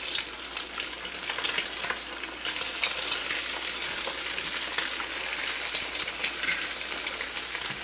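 Over-easy eggs are flipped in a frying pan for a New Jersey breakfast sandwich, with a bright, steady sizzle and crackle of frying throughout and a few faint scraping touches, no voices.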